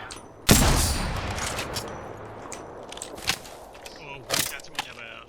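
Gunfire in the Apex Legends battle royale game, with a loud burst near the start and a few sharper shots later, over a busy in-game background.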